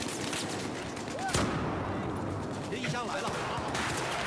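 FAMAS rifle fire in Battlefield 4 crackles in dense rapid bursts, loud and continuous, with one sharp louder shot standing out amid the clatter of a busy firefight.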